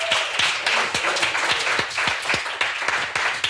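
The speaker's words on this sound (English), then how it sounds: "Give it up one more time for poor Uncle Joe" A live podcast audience at The Loft in downtown Scranton breaks into steady applause, dense overlapping clapping with a few sharp individual claps standing out, close and loud throughout.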